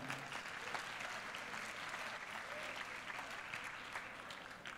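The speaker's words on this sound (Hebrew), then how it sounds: "מגיע לו מחיאות כפיים" An audience at a school graduation ceremony claps steadily for several seconds, a dense, even patter of many hands heard at a moderate distance with no break.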